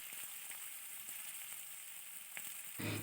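Onions and dried chillies fry in oil for a spicy fish curry, giving a close, continuous crackling sizzle with a few faint stirring ticks, then a louder rustling burst near the end.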